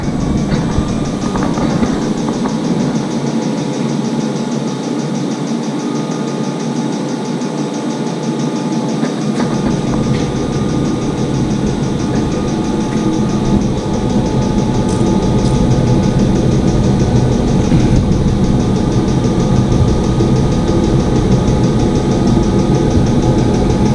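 A military diesel tent heater runs with a steady, loud mechanical drone and low rumble, continuous throughout with no talk.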